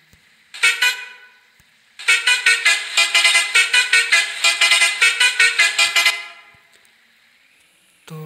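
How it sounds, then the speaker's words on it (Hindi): A bus horn honks in the Android game Us Bus Simulator Unlimited. One short toot is followed by a long, rapid run of loud, evenly spaced honks lasting about four seconds, then silence. "शायद हॉर्न करनी होगी, तो हॉर्न कहाँ है?"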